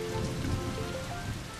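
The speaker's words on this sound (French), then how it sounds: "Il pleut sur l'aire de jeu." Steady rain patters on a playground in a children's cartoon, a dense, even hiss of drops throughout with no voices.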